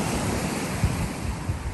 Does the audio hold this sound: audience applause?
no